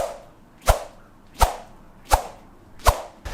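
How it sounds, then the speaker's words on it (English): Yonex Nanoflare 700 or 800 badminton racket swung sharply through the air four times at an even pace, each a brief, close, loud swoosh with a sharp crack-like edge, separated by quiet pauses. "when you swing this racket, it makes a sound that is different compared to any other racket."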